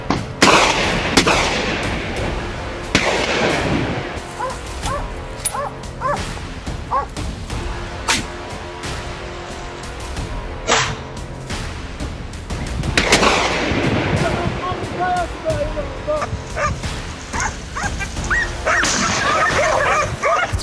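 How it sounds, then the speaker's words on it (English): A wild boar hunt outdoors, with dogs barking and yipping throughout and sharp gunshot cracks cutting through the barking, including one distinct loud shot midway and a burst of noise later. "Another shot rang out, and the second boar dropped."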